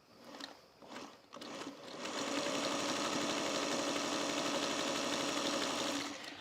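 A sewing machine stitches with a few short starts and then runs a steady, humming, rapid chatter for several seconds, close and fairly quiet, before it stops.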